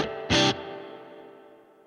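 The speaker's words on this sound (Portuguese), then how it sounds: "olha como o reverb continuou, mesmo eu trocando de som" A guitar played through the reverb on a Fender Tone Master Pro processor: one loud strummed burst, then a long reverb tail that keeps ringing and slowly decays after the preset changes.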